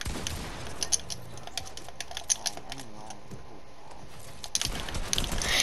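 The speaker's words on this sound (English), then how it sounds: "I want to hear that loud guy keyboard again" Loud computer keyboard typing up close, a rapid run of sharp clattering key presses with a few heavier thumps, ending in a denser burst of clicks, while a voice talks faintly underneath.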